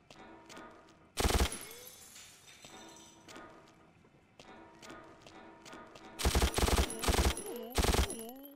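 Gunfire in the World War II shooter Mortyr, in a U-boat pen: loud automatic bursts, one short then several rapid volleys, over quieter game ambience with faint footsteps; no talk.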